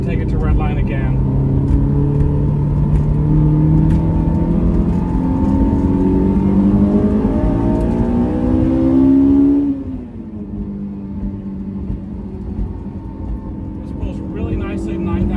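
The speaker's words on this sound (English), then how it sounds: "we will exit a little bit lively and take it to Redline again" A 2002 Honda S2000 AP1 engine revs steadily up to a 9,000 rpm redline out of a roundabout, its rising intake howl loud and close, then drops off sharply as the driver lifts, settling into a lower drone.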